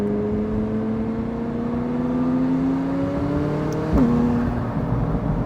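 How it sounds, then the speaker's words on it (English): A twin-turbo McLaren accelerates with a rising engine drone through the gears, then a brief turbo flutter and shift near the end, heard from inside the car, loud and steady with no talk. "That turbo flutter is so sick."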